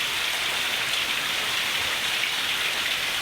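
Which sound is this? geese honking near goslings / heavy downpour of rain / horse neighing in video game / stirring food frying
heavy downpour of rain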